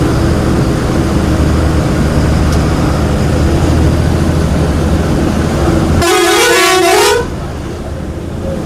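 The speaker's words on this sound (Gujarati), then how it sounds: "હોર્ન મારો છે." On a mountain road near Mount Abu, a vehicle horn blasts loudly for about a second over a constant close engine and road rumble that eases off after the honk.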